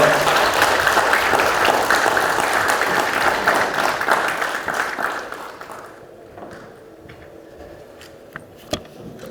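A large audience applauds a Gangwon governor being welcomed to a presidential-candidate lecture event. The clapping is loud and sustained, then thins out and fades by about six seconds, leaving a few scattered claps near the end.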